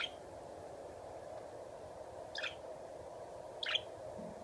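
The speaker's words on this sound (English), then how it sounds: "up here calling a bird meeting" A pet bird gives two brief, high, thin calls a little more than a second apart, faint against a steady indoor hum, with nobody speaking.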